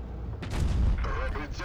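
A heavy tank cannon blast in the video game World of Tanks Blitz booms out with a sharp crack and deep rumble, followed by lingering mechanical noise and a faint voice underneath.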